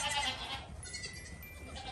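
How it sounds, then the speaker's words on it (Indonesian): A goat bleats among toy farm animals, the call loud at first and then fading into a softer, noisy background with no talking. "Ini seekor kambing."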